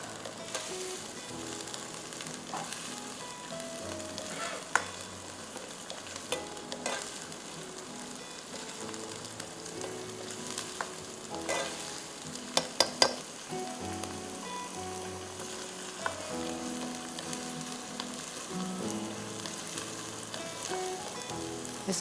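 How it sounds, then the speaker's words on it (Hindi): Ginger garlic paste and onion frying for white katakat, a steady close sizzle and crackle with occasional stirring clinks and small pops, continuous throughout with no talk. "इसको आपको अच्छी तरह से फ्राई करना है।"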